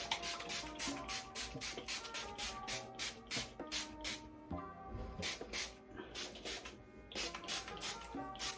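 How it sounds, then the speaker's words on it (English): A spray bottle of conditioner is pumped onto hair over and over in quick rhythmic bursts, each a short close hiss, with a brief pause midway. "so now I'm just going to spray my hair"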